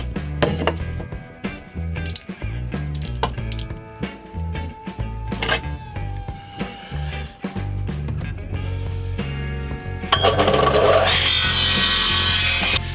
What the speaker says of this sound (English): I'm now just going to smooth all of the faces so they're nice and smooth.